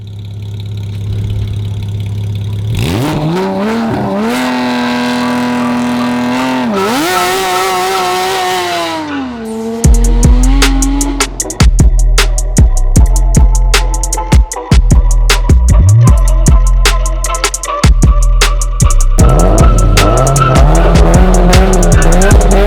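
Great Wall car with a manual gearbox, engine revving and climbing through rising pitch, then a sharp cut followed by choppy, pulsing engine and rattling noise, loud and close throughout with no talk.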